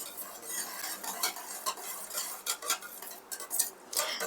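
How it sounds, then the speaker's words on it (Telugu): Mysore bonda batter being mixed in a bowl, a spoon stirring and scraping close up in irregular, wet strokes with occasional light clinks against the bowl, no voices. "సో మిక్స్ అయితే బాగా చేసేసుకోవాలి"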